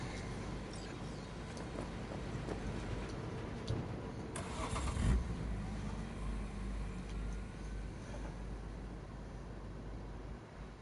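A car engine in a PS4 video game rumbles steadily, swelling briefly around the middle as the vehicle pulls away, with a constant low drone throughout and no talking.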